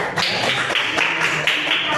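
Classroom applause for a student group after their presentation, a steady patter of many hands clapping together close by for about two seconds with no talk over it.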